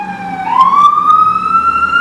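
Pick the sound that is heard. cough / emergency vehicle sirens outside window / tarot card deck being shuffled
emergency vehicle sirens outside window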